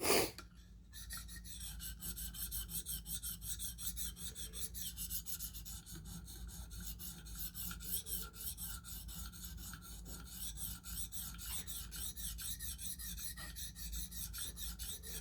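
A knife blade is honed on a KME guided sharpener, the stone rasping steadily and continuously in close, even back-and-forth strokes for the whole stretch.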